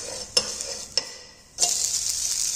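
A crisp fasting-day snack fries in oil on a pan, with two sharp spatula taps over a soft sizzle before the frying hiss swells loud and steady as the piece is flipped.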